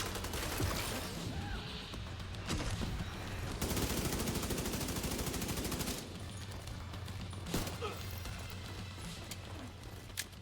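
Rapid pistol fire in a hardcore, solo, permadeath video game: dense, sharp shots that come in fast bursts almost without pause, loud and close over a rumbling background.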